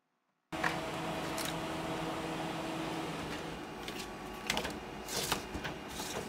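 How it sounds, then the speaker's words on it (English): An iColor 550 printer feeds and prints a window cling sheet, starting abruptly after a brief silence, then running as a steady mechanical whir with intermittent clicks and short rattling bursts, close and moderately quiet. "we will send it off to the printer"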